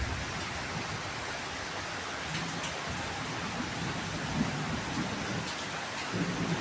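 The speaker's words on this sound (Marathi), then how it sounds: "किती गडगडतोय, आवाज किती येते बघा." Steady monsoon rain falls during a full-moon evening, with low thunder rumbling underneath; the wash of rain stays even and moderately loud throughout, with no voices.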